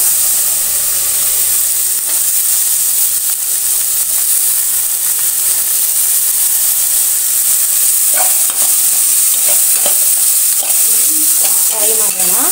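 Chopped tomato frying in masala in a pan, a continuous close hiss of sizzling with scraping and stirring clicks growing more frequent near the end.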